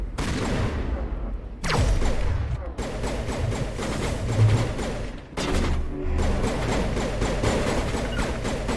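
Gunfire from a pirate sniper and a firefight in Mass Effect, with loud bursts and sharp cracks recurring over a steady din of combat, and several heavy blasts standing out.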